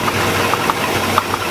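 Car engine idling close by at a low RPM in timing mode, an even, loud mechanical rumble with faint periodic ticks.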